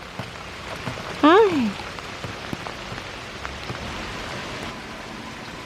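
Steady rain patters on a surface outdoors around animal pens in wet weather, a continuous soft hiss throughout, with a brief voice greeting early on.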